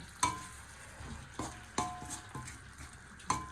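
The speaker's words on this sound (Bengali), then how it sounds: "ইলিশ মাছ আর মাথা এগুলো আমি দিয়ে দিতেছি। একটু ভুনা হলে শাকটা দিয়ে দিব।" Hilsa fish pieces and head frying in a pan, a low sizzle broken by several sharp clinks and stirring knocks at irregular intervals.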